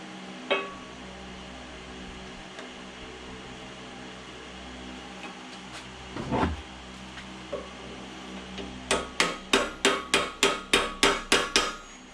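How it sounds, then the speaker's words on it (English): Steady metallic taps from a brass hammer seating a cap during press work, a few isolated strikes and then a quick regular series of about a dozen, over a low mechanical hum. "This is that brass hammer that I like to use."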